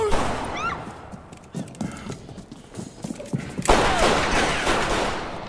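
Gunshots in a Turkish film, a scattered volley of sharp bangs and thuds mixed with film sound effects, followed by a loud burst of noisy action toward the end.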